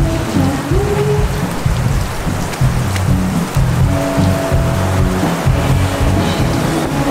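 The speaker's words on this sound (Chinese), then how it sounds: "狂风暴雨太扯" Heavy rain and gusting wind pound down at an outdoor rock music festival, a loud, steady wash of splashing noise with low rumbling throughout and no voices.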